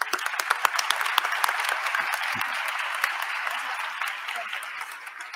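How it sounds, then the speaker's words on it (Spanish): An awards ceremony audience applauds food bank organizations, starting with distinct sharp claps that thicken into steady crowd clapping before gradually tapering. "Un aplauso para estas organizaciones también"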